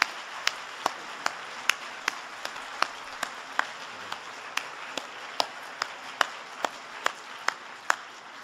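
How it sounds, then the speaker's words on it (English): Applause in an auditorium after a provost's remarks, mostly one or a few nearby hands clapping in a slow, regular rhythm over a soft wash of distant clapping. "I think he deserves another round of applause for that fine set of remarks"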